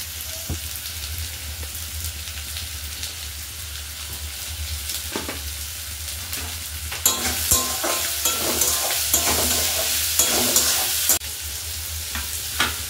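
Onions frying with added salt for a dhaba-style egg tadka dal, a steady close sizzle with spoon stirring and scraping that grows louder and busier midway, with no voices.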